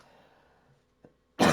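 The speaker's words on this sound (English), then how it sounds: "I apologize for the coughing." A single burst of throat clearing or a cough close to the mic, preceded by a faint short breath or click, in a quiet room during an NHL 25 gaming session.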